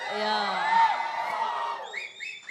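A live audience cheers and whoops loudly as actor Allari Naresh is called onto the stage at a movie team meet. A steady roar of voices builds, with high whistles and shouts near the end.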